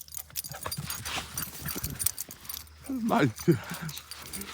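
A dog plays fetch on grass with a chewed reindeer toy, heard as close panting, jangling and scuffling with a few whimper-like sounds, while a person talks and exclaims over it.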